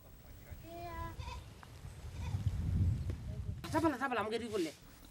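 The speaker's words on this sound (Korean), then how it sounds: "자넷이 염소 구경을 시켜준다" Goats bleat outdoors in rainy Kenya: a few wavering, nasal cries near the start, then a louder, rising-and-falling bleat near the end over a low rumbling background.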